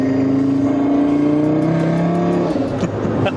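A tuned OSP-built Audi RS3 engine revs at around 2,500 RPM, a loud, close, sustained growl with a rich rumbling tone that holds steady and shifts slightly, with no talking.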